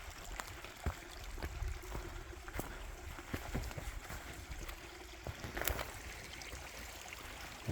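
Small cascading water slide along a hiking trail to Glory Hole Falls in the Arkansas Ozarks, a steady rushing wash of water with scattered knocks and footfalls on top, moderately close and without talk.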